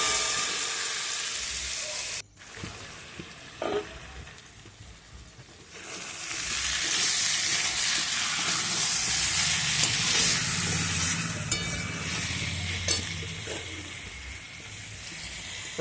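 Diced potatoes and jackfruit are stir-fried with spices, giving a continuous loud hiss of frying that dips briefly, then swells fuller, with scattered scraping stirs throughout and no talk.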